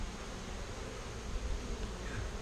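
Honeybees on a hive frame from a swarm colony, a faint, steady buzzing hum held close and low, with no talk.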